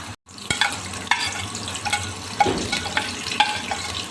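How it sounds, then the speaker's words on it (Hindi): Onions frying in hot oil in a pot for Karachi chicken biryani, a loud continuous sizzle with repeated scraping clatters of a spoon stirring, close up and with no speech. "सबसे पहले इसमें प्याज ऐड करेंगे"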